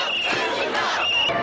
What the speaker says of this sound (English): rallying crowds swamp the streets in the biggest anti-Wall Street demonstration